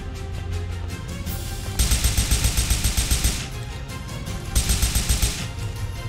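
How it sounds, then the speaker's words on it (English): Rapid gunfire rattles in the video game Gears of Babies, two loud bursts of fast automatic shots over a constant background hum of game sound. "Oh, they're shooting."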